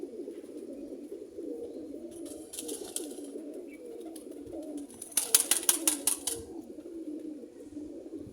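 A pet quail calls in the foreground, a bright run of rapid repeated notes near the end over a steady low cooing and chatter from other birds.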